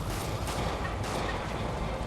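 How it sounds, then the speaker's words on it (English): A pigeon in Marvel's Spider-Man gives a short, loud, throaty cooing burble that sits against steady dense game background noise, with no voices. "Ha! A pigeon!"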